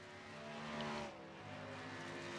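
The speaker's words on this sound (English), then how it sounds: "As you can hear, Lee Grandy's shutting the car down." Race car in a Grand National Series racing video game being shut down, its engine note swelling briefly then dropping away, fairly quiet and alone without talk.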